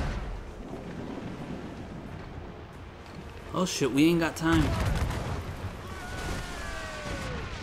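Ship cannons blast at fire ships during a naval fight in Assassin's Creed Rogue, a burst of heavy booming shots mid-clip amid rumbling battle noise, with a voice speaking urgently over it.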